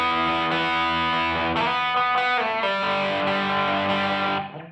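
Distorted electric guitar through a humbucker pickup at volume 6, played with reverb only and a basic room setting, rings loud and sustained as chords change across the phrase before fading at the end.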